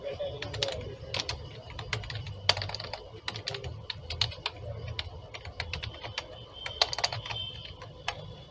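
Rapid irregular clicks of a computer keyboard as JavaScript code is typed, close and steady throughout, with a faint low hum underneath.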